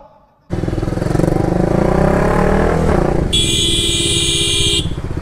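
A motorbike rides through busy traffic, its engine droning loudly and steadily up close while a vehicle horn blares for a couple of seconds amid the street noise.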